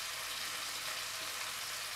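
Goat cheese rounds fry in a pan with a steady, even sizzle, moderately loud and close, continuing without pause and with no talk.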